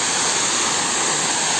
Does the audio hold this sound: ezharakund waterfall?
yes